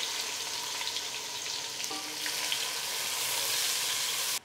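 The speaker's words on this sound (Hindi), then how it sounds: "इसमें हम 3 प्याज डाल देंगे मीडियम साइज़ के" Three medium onions hit hot oil in a pan with whole spices, including shahi jeera, giving a steady close sizzling hiss of frying that carries on unbroken and swells slightly toward the end.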